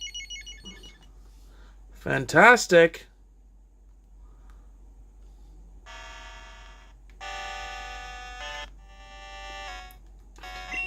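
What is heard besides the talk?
Pokemon game sounds from a Game Boy SP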